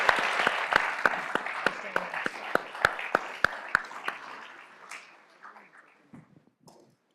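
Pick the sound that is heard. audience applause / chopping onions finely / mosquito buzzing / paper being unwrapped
audience applause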